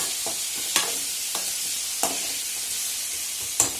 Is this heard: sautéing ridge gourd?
yes